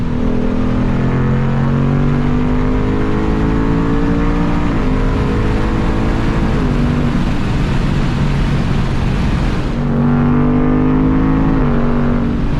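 A 2024 Ford Mustang GT engine revs and accelerates through gears, loud, pitch climbing and dropping with each shift, close and continuous without any talking.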